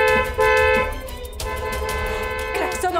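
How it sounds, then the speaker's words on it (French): A car horn honks loudly and close in a sustained, slightly wavering blast while another vehicle waits, with a brief voice underneath and no clear speech. "Klaxonne encore plus fort."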